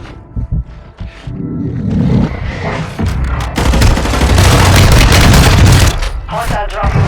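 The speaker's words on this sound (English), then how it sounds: "Launch the mortar strike." Mortar strike and gunfire in the video game Call of Duty Warzone 2, with loud booming blasts and a sustained roar of explosions and shots building over several seconds, while game voices talk underneath.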